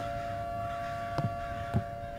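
A steady siren-like drone in the horror game Summer of '58 holds two unwavering tones over a low hum throughout, broken by a few brief soft thumps.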